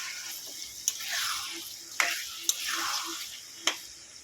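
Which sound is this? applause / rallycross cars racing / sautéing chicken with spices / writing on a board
sautéing chicken with spices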